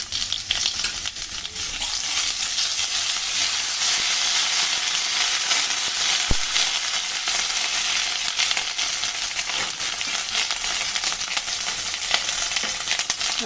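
Ginger paste and cumin paste fry in a pan with a loud, steady sizzle close by, joined by faint scraping and stirring and one sharp clink partway through. No one speaks.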